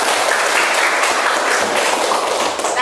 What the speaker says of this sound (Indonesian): Ibu beri aplaus 1 kali lagi untuk kelompok 1 sampai kelompok 5